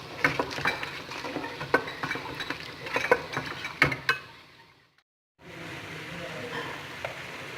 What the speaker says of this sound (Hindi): अभी हम इसको अच्छी तरह भूनेंगे।